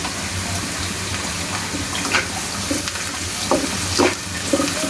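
Spiced food frying in a pan with salt, turmeric and chili powder as it is stirred, giving a steady, close sizzle with scattered scraping and stirring clicks and no voices.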